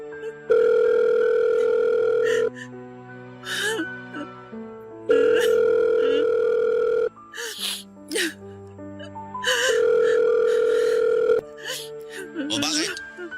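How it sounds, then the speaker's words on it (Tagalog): A phone call is placed: a steady electronic ringback tone repeats in three long bursts with pauses, close and clear, while a person speaks in the gaps between rings. "Susubukan kong tawagan siya ngayon."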